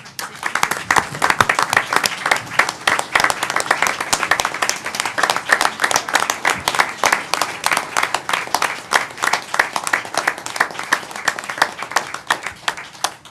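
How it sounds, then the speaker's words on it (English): Sustained applause from a city council meeting audience honoring a judge, dense and steady clapping that continues loudly for several seconds without pause. "do hereby recognize and applaud the Honorable Judge Alan Gilbert for his achievement"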